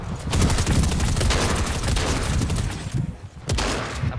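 Rapid bursts of DMR rifle fire in Fortnite, loud dense shots cracking one after another with a brief lull near the end.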